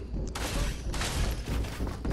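Gunshots in the Fortnite video game, a short burst of several sharp, loud cracks in quick succession over a low rumble.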